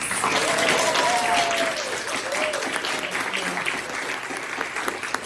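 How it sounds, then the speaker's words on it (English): A community panel audience applauds the moderator: a loud, dense wash of clapping that starts strong and slowly eases off, with faint voices murmuring underneath. "And another round of applause for our wonderful moderator, Alex."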